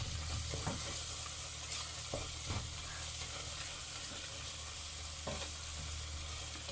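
Curry ingredients for a beans curry are stirred and roasted in a pot, giving a steady close sizzle throughout with a few scraping stir strokes on top. Nobody speaks.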